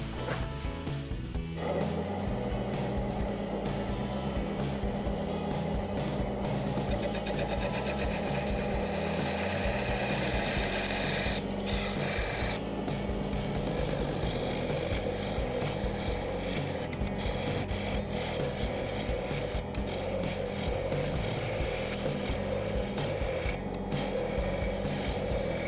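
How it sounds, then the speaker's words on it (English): A wood lathe spins a segmented vessel built from rings at 500 RPM while a parting tool cuts into the wood, making a steady rubbing, rasping hum with scraping texture that runs continuously and fairly loud throughout. "I'm going to be turning this 500 RPM. Start with my parting tool"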